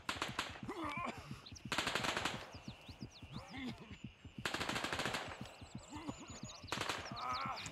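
Gunfire in the video game Gray Zone Warfare: rapid automatic bursts, loud and dense, repeating in several strings across the clip, with game ambience and faint bird-like chirps between bursts and no talking.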